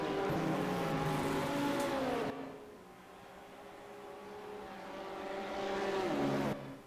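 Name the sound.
GT3 race cars from the video game Automobilista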